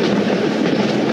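A train rolls along steadily in the steampunk game City of Steam, a dense continuous rumble with a faint clickety-clack texture, loud and close with no voices over it.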